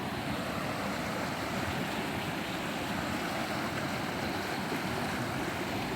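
Steady broadband rush of water from a river flowing along a wooded mountain trail lined with fallen trees, continuous and fairly loud throughout, with no voices.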